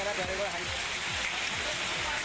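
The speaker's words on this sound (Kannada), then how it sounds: "ಬೀದರ್ನ ಔರತ್ ತಾಲೂಕಿನಲ್ಲಿ ಆಲಿಕಲ್ಲು ಮಳೆಯಾಗಿದೆ." Hail and heavy rain pour down in a steady dense hiss on surfaces in Bidar district, with low thuds and faint rumbling underneath.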